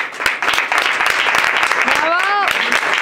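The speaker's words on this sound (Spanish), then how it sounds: "Vamos a recibirlo con un fuerte aplauso." An audience at a live stage show claps loudly to welcome performer Jesús Quiroz. The dense clapping is mixed with crowd voices and a rising whoop near the end.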